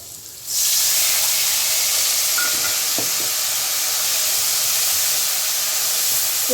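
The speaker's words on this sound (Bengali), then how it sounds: "এবার আমি এই রসুন বাটা যেটা রেখেছিলাম সেটা দিয়ে দেবো, এবং এর সাথে একটু জলও দেবো।" Garlic paste and a splash of water hit hot oil left from frying fish, bursting into a loud sudden hiss that holds as a steady, bright steaming sizzle with a few faint clicks.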